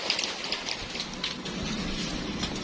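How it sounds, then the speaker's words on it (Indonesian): Steady rain falls continuously over growing garden plants, a dense even hiss with scattered brighter drop taps and a low rumble underneath, moderately loud and with no voices. "Ini hujan belum berhenti"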